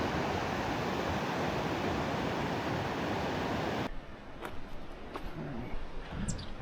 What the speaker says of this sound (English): Series of cascading waterfalls.